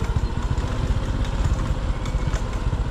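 A motorcycle engine idles close by with a rough, pulsing low chug and light clatter, steady throughout with no voices.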